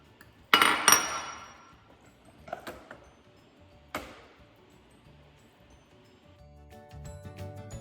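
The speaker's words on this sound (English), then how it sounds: "I'm gonna scoop some into a bowl." Pumpkin seed pesto with kale scooped into a bowl, with a few sharp clinks of a utensil against the dish followed by softer scraping and tapping, close by.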